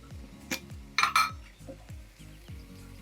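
A utensil stirs pepper liver fry in a pan, giving a few sharp metallic clinks and scrapes over a soft background hum, close and moderately loud, with no talking.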